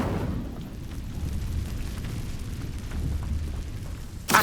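The Incendio fire spell from Hogwarts Legacy bursts into a steady, roaring rumble of flame that holds for several seconds, with a sharp crackling burst at the very end.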